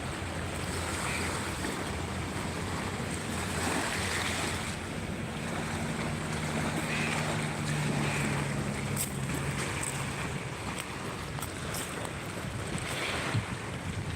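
Ocean surf rolls onto a beach beside the Maldives airport, a steady broad wash of breaking waves mixed with gusty wind buffeting the microphone, continuous and fairly loud throughout with no talking.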